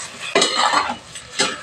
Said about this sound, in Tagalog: Mimix natin